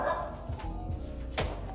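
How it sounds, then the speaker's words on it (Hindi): A dog barks a few times somewhere nearby, muffled and fairly soft over steady background noise. "उनका कुत्ता भौंक रहा है"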